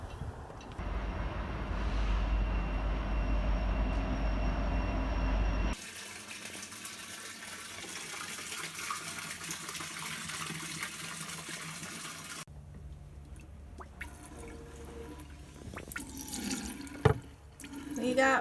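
Water runs steadily from a tap aboard a boat, splashing and gurgling, then changes character as the flow shifts, with a few clunks and drips near the end.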